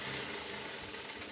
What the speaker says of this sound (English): Then I'm just sewing straight.